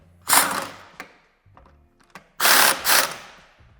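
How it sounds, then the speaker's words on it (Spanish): Wrench or ratchet working the bolts of a rear tow bar (underrun bar) mount on a 2017 Skoda Karoq during a towbar fitting: several short bursts of ratcheting clicks with brief mechanical knocks between them, close and fairly loud. "Quitaremos los tornillos"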